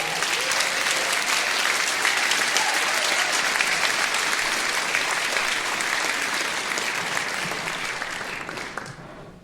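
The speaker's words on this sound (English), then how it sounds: "Nice round of applause for the guy that put the video together." Audience at a community band concert in a theater applauds steadily for about nine seconds, a dense close clapping that fades slightly at the end.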